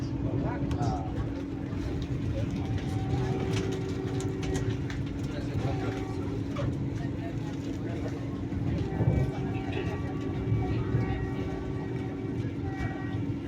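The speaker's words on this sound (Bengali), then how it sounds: "আর আমাদের ট্রেন ছুটে চলেছে 130 কিলোমিটার/আওয়ার মধ্যে।" A Howrah–Ranchi Vande Bharat Express at speed, heard from inside the coach: a continuous loud rumble and rail noise with a steady hum and light clatter, while passengers talk faintly underneath.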